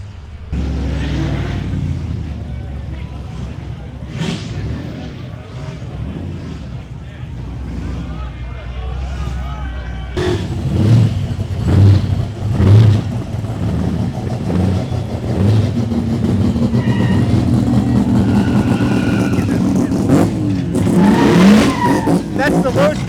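A Mazda RX-3 at the Summernats car festival: a loud rotary engine revs and roars close by, rising to heavier revving and tire noise in the second half, while a voice talks over it.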